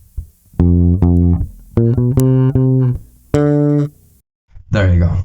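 Guitar playing a few bars of a song, a run of clear, sustained single notes with strong overtones, some repeated, separated by short pauses, played alone.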